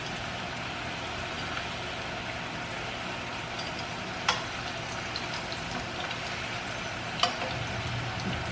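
Steady, dense sizzling of tortillas frying in oil for seafood enchiladas with crab and shrimp, a continuous close crackle with a couple of faint utensil taps and no talking.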